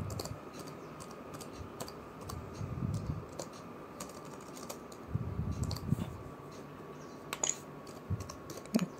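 Faint, irregular key clicks come from typing on a computer keyboard while writing HTML code, with short bursts and pauses in a quiet room.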